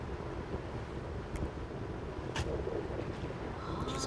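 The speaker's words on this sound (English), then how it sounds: "You can hear the waterfall all the time." A video game waterfall in a built village base pours in a steady, soft continuous rush with no voices, holding an even level from start to finish.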